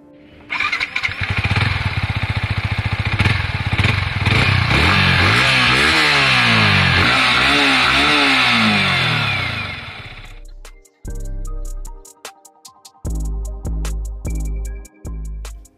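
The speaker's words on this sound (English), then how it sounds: "let's check out the exhaust note of the bike before taking it out for a ride" A Yamaha MT-15 motorcycle starts and revs loudly and close, its exhaust note rising and falling in repeated throttle blips, then settling into short sharp bursts of revving separated by pauses.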